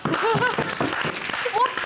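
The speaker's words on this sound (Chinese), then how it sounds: "鼓掌。" Audience applause at a live cosplay talk-show event, brief clapping mixed with cheering voices and chatter, moderately loud and continuous.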